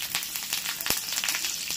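Curry leaves crackle and sizzle as they fry until crisp in hot oil, a steady broadband hiss with a few sharp pops, close and fairly loud throughout.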